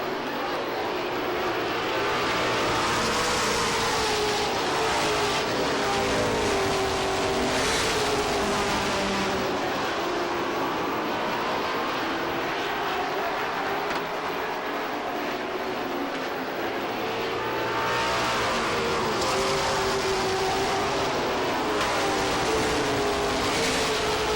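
Pro stock race cars at Lee USA Speedway in 1993 accelerating on a green flag restart, a loud sustained engine roar that rises and falls as the pack passes, with no talking.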